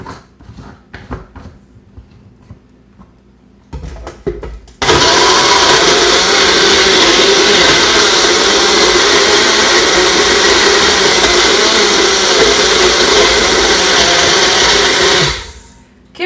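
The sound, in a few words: blender mixing a shake with frozen peaches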